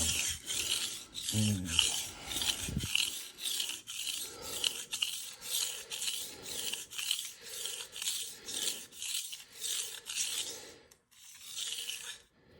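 A knife is sharpened on a King 300 splash-and-go water stone with rhythmic rasping strokes about a second apart, close and clear, after a short thump at the start.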